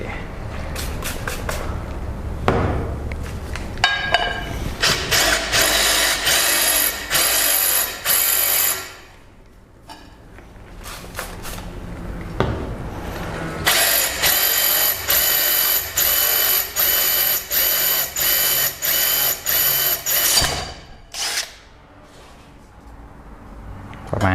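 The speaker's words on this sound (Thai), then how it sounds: "เดี๋ยวเราจะลองเจาะกระเบื้องตัวนี้กันให้ดู" A drill fitted with an ONISHI bit bores into hard ceramic tile, with a harsh, gritty whine in bursts broken by pauses, loud and close, and someone speaking briefly between the drilling.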